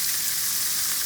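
Shrimp sizzle in a hot pan for a Tuscan butter shrimp dish: a close, steady, even hiss of frying with no talking and no break in the sound.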